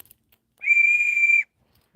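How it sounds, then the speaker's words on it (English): An emergency whistle gives one steady, shrill blast of just under a second, close and loud, with silence before and after. "That's my emergency whistle."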